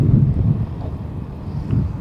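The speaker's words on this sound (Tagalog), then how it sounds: "Ayan, mahangin ngayon tol." Wind buffeting a helmet-mounted action camera on a moving rider, picked up through an external mic: a continuous low rumble of gusts that surges and eases, with no talk.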